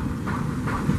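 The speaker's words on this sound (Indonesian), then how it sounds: "Kereta api Papandayan sudah masuk ke stasiun Cibatu di jalur 2" The Papandayan passenger train pulls into Cibatu station on track 2, a steady low rumble of wheels and carriages with faint rhythmic clatter, continuous and fairly near, with no voices.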